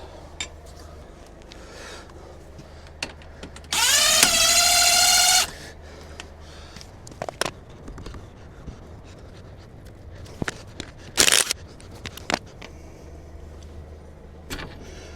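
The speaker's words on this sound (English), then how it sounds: "We've now got to get the bolt out." A bolt is worked out of a car's track rod end, with a loud whirring tool burst of about a second and a half, a shorter burst later, and scattered metallic clicks and taps in a quiet workshop.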